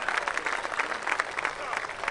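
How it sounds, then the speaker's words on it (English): Applause from an audience at a civic gathering in Omaha, a steady patter of many hands clapping throughout the short stretch at moderate loudness, with no voices standing out. "Let's give a round of applause to Jay Noddle"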